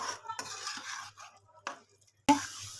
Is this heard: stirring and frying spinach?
yes